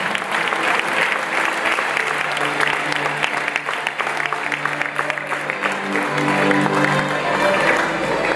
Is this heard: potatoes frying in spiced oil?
no